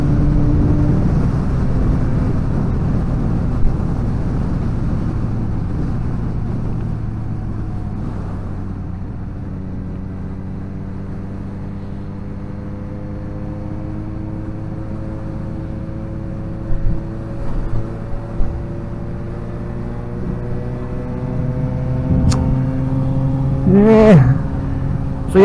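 A Suzuki GSX-S750 AL9 motorcycle's engine and exhaust hum steadily and loudly while riding, with rising tones as it accelerates through gears and a brief higher whine toward the end.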